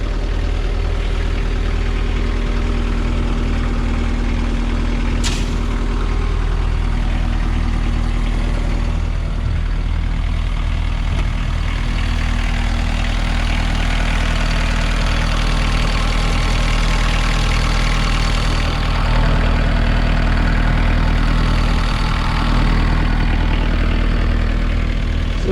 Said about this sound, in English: So there you go, nice little Kubota 4-cylinder diesel on this one.